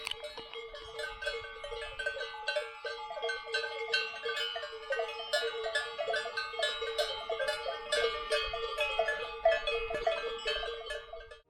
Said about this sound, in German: Hört euch da mal Glocken, Leute,